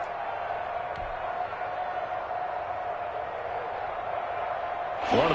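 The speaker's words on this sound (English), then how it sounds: "The crowd getting into it as we come up on a big 3rd down" Steady crowd noise fills a football stadium during a Raiders at Browns game ahead of a big third down, a continuous broad roar with a brief swell near the end.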